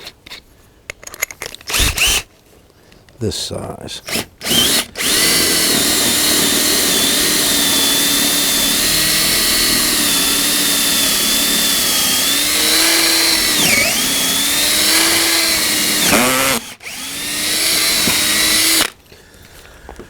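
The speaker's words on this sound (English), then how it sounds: "And then we're going to go ahead and drill it down" A power drill whirs loudly and steadily for about twelve seconds, pitch dipping as it bites, after a few short bursts and brief talk at the start, while building a spring lathe.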